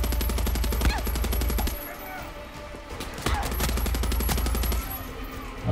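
Sustained machine-gun fire in the video game Far Cry 6, long rapid bursts with brief gaps, loud and dense throughout.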